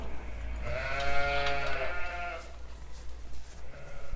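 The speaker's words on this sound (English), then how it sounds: "the majority of the sheep we have, or the ewes we have, are Aberfield crosses" Aberfield cross ewes on a farm during lambing bleat loudly and close by, one long wavering call followed by quieter rustling and further faint bleats in the background.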